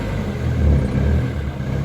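A Ford Mondeo ST engine runs steadily close by, a low continuous rumble with a slight swell in the middle and no voices.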